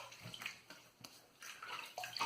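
Water runs from a tap to rinse up after a wet shave, with soft irregular splashing and trickling, faint and close.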